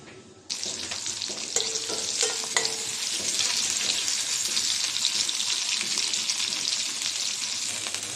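Oil sizzles loudly and steadily after chopped onions are added, a constant hissing fry with a few brief clinks early on, no voices.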